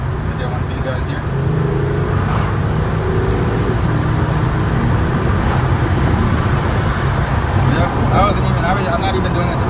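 A Volkswagen R32 accelerates up a mountain road, its engine a steady, loud drone that builds throughout, mixed with road noise and traffic.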